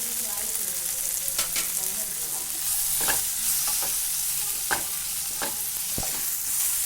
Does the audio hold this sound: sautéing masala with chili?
yes